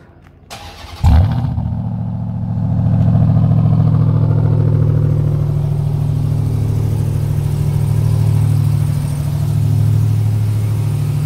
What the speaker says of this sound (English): Let's do a little cold start so I can back it off the ramps.